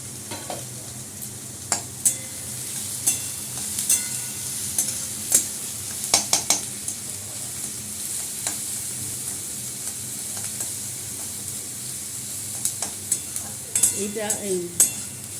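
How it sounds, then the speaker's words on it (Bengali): Tomato, garlic and ginger masala sizzles quietly in a pan while a spoon scrapes and clinks against the pot in irregular strokes, with faint background voices near the end. "এর সঙ্গে টমেটো কুচি দিয়ে দিচ্ছি, রসুনটা দিয়ে দিলাম, আদাটাও দিয়ে দিলাম। সবই দিয়ে ভালো করে ভাজা ভাজা হলে"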